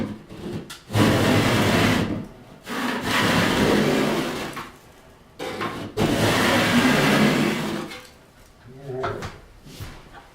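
A scraper drags across a popcorn-textured ceiling in long, loud rasping strokes separated by short pauses, with texture crumbling away, close by.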